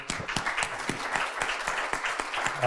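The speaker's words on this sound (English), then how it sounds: "Could I ask for a combined round of applause, one for Severine and her colleagues" Conference audience at a sustainability and financial reporting event breaks into a round of applause, dense overlapping claps from a mid-sized crowd holding steady for a few seconds.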